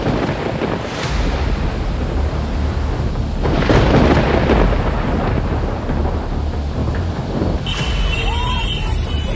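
Heavy rain and floodwater at Vaishno Devi, a dense, loud, continuous roar of rushing water and downpour with wind buffeting the microphone and a brief faint voice near the end.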